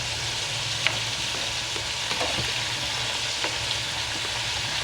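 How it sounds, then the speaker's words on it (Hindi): Ground roasted masala frying in oil for chicken karahi, a continuous dense sizzle with faint stirring scrapes, close and steady throughout. "ये इसमें अच्छी तरीके से भून जाएगा"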